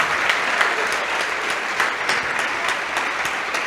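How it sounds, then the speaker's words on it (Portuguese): Congregation at a church service breaks into sustained applause, a thick continuous patter of many hands with occasional louder claps standing out, even and without talk. "Vamos aplaudir mais ao nome de Jesus"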